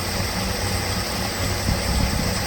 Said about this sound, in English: It's idling.